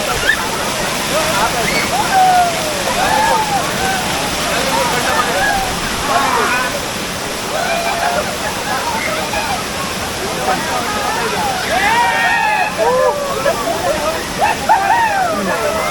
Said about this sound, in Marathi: आता खूप सुंदर असा धबधबा